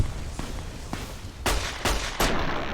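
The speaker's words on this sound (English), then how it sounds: "He was using his laser gun for a second." Laser gun firing in the video game Don't Feed the Plants, a quick series of sharp electronic blasts that grow louder toward the end, close and alone with no talk.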